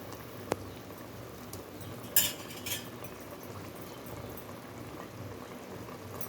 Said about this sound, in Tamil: இப்போ நம்ம இதில் கருவாட்டாளி போட்டுடலாம்